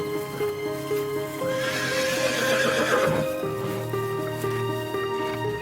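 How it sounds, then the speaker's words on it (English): Horses neigh and whinny over steady clip-clopping hooves, close and fairly loud, with the neigh rising in the middle of the passage. "As Clara fed the horses"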